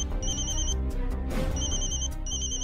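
A telephone ringing in a TV drama scene, with repeated high electronic ring bursts over a dense music bed, the rings pausing briefly in the middle before resuming.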